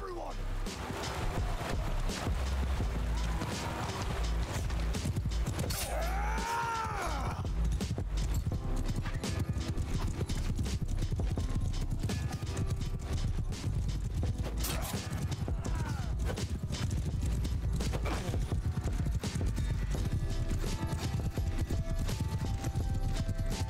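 Galloping horse hooves thud in a rapid, continuous clip-clop in the Mount and Blade Bannerlord video game. The hoofbeats sit inside a loud, dense wash of battle noise that never lets up.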